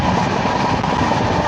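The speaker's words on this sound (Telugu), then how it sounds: "ఆల్మోస్ట్ 130 క్రూజ్ చేస్తున్నారు ట్రైన్ అయితే" A superfast express train runs at close to 130, giving a dense, loud rumble of wheels and carriage noise that stays steady and close for the whole stretch, with no voices.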